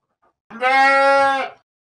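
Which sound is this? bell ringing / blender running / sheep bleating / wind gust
sheep bleating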